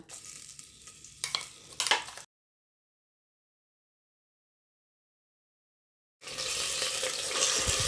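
Chicken mince ground with a green paste drops into hot oil in a pan, giving a near, bright sizzle with a few stirring knocks. A long silent gap follows, then the frying hiss returns strong and steady.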